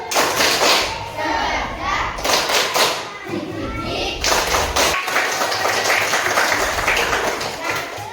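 Schoolchildren in a classroom perform a rhythmic spirit clap, tepuk semangat, with bursts of hand claps and table taps in quick patterns, mixed with children's voices and a teacher speaking.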